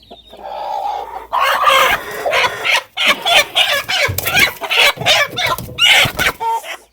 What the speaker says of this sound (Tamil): இங்கே சாவல் பார்த்தீங்களா